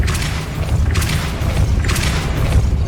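Depulso spell blasts in the game Hogwarts Legacy come as deep booming whooshes, three of them roughly a second apart over a low rumbling background.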